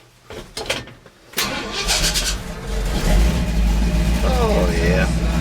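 A Subaru's engine cold-starts after a thermostat change, with a few clicks and a short crank before catching and settling into a steady close idle, while a voice speaks briefly over it.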